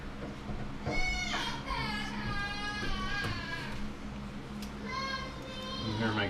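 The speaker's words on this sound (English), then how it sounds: "You can hear my kids screaming in the background." High-pitched children's shrieks and squeals rise and fall in the background, several bursts over a steady low hum.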